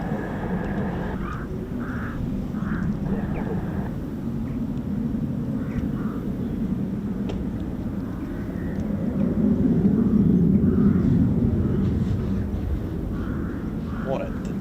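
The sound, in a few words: F-35 Lightning fighter jets flying past, flight of three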